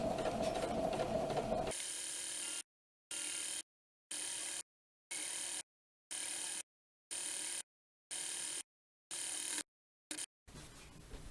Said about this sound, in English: This is really tricky around that tight bend. And there's an even tighter one coming up.